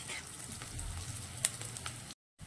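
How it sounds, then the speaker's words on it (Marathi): Chopped onion frying over a high gas flame for methi bhaji, a steady close sizzle that runs on its own with a faint clink partway through, then cuts to silence at the end. "फास्ट गॅस करायचा आहे, मस्त कांदा तळला जातो।"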